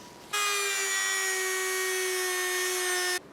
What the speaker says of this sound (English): I was mistaken about the brass wire brush getting this. All it was really doing was polishing it